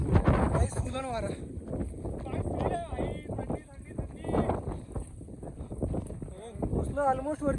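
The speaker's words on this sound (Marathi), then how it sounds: "एवढं डेंजर वारा सुटलाय ना" Strong, dangerous wind buffeting the microphone on a foggy, icy mountain trek to Nageshwar, gusting loudly throughout while people talk over it.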